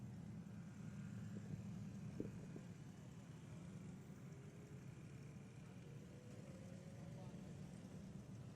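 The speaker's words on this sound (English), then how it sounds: "There goes the old tractor hauling everybody around." An old tractor pulls a tram full of people at a street rod show, its low engine drone steady and distant, with faint crowd murmur around it.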